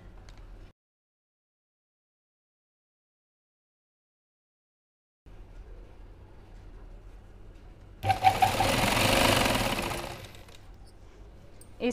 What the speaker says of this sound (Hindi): सिलाई हमें कोने में लगानी है,